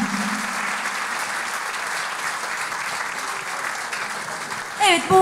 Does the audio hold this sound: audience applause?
yes